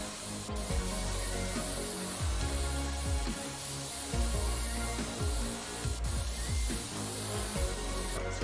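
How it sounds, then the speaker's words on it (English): Compressed air hisses steadily while dust is blown out of a PC in the game PC Building Simulator, with a continuous spraying rush and faint rubbing clicks throughout, no talking. "I'm only spraying compressed air in"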